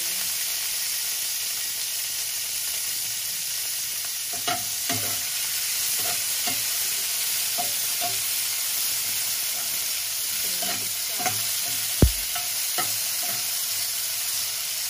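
Ground chicken and string beans stir-frying in a pan, with a steady close sizzle, a spatula scraping and tossing in irregular strokes, and one sharp clank partway through.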